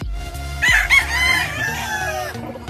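A lemon white-leg gamefowl rooster crows once, loud and close in a backyard farm, the long call rising then trailing off over low background murmur.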